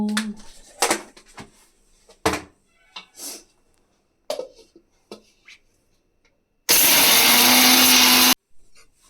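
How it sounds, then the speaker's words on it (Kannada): Scattered kitchen clatter and short knocks, then a mixer grinder roars loudly for about two seconds before stopping abruptly. "ಮಿಕ್ಸಿ ಹಾಕೋತೀನಿ."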